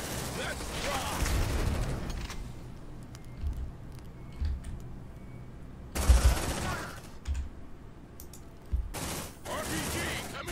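Squad gunfire in the sci-fi tactics game Aliens: Dark Descent: bursts of rapid automatic fire and heavy thumps come in separate volleys, with quieter gaps and voices talking between and over the shooting.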